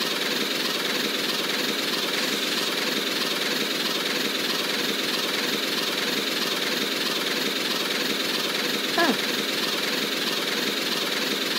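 Steady engine drone from a train in the Roblox game Steam Age runs without a break, loud and continuous, with a brief whistle-like sweep near the end.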